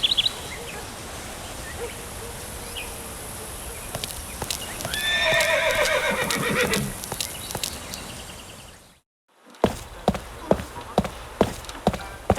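A horse neighs loudly and clip-clops in the Saddle Up horse-riding video game, with a long whinny in the middle, birdsong and outdoor ambience, then a brief silence and a run of sharp, evenly spaced hoof or step hits.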